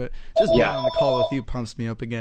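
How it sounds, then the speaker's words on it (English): A telephone rings faintly in the background during a live call, its tone running beneath steady, close conversation. "that's a phone in the back"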